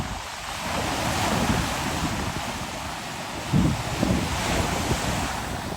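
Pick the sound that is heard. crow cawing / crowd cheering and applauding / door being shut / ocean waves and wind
ocean waves and wind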